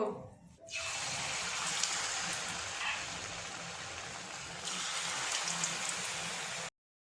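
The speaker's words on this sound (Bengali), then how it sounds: "বড়াগুলো এবার যতক্ষণ লাল না হবে ততক্ষণ ভাজতে থাকবো" Raw banana fritters frying in hot white oil, a dense steady hiss and crackle that starts abruptly and holds evenly until it cuts off, with no talking.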